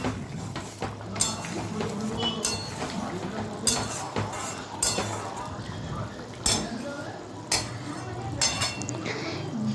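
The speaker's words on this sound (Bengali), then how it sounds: "সর্ষের তেলটা দিয়ে লো ফ্লেমে মিশিয়ে নিলাম ভালো করে।" A metal spoon stirs potatoes with mustard oil for Bengali kasundi aloo dum in a pan over a low flame, giving repeated close clinks and scrapes against the pan at an uneven pace.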